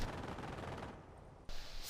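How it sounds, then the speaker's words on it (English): Sustained machine gun fire in the Company of Heroes strategy game, a dense, steady rattle that holds at even loudness with no talk, cutting briefly near the end before a sharper resumed burst. "I did not notice that machine gun was there"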